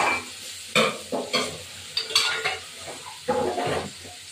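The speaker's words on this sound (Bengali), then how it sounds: "তেল দিয়ে তেলটা গরম হবে, তো মাছটা ভেজে নেব, কড়াইতে দিয়ে দেবো।" Prawns fry in hot oil in a kadai, a loud, close sizzle broken by repeated bursts of spatula scraping and metal clatter against the pan.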